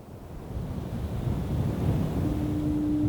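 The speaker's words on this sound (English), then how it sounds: "we have woken to the sound of waves crashing on Cape Ray" Low rumbling surf at Cape Ray, Newfoundland, with wind buffeting the microphone, swelling gradually louder, a continuous wash of waves crashing on the shore nearby.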